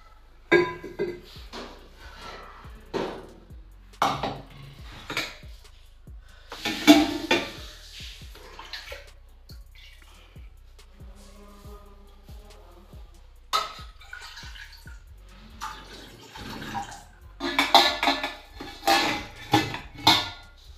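A pot is filled with water and set on a stove: scattered metallic clanks, knocks and handling noises come and go in separate bursts, with water running briefly in between.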